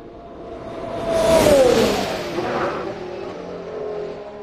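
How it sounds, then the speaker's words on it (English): At Barcelona pre-season testing, Formula 1 cars from Red Bull and Ferrari pass by, their engines rising into a whooshing high-pitched scream and fading away, heard from a moderate distance trackside. "There goes the Red Bull, there goes the Ferrari."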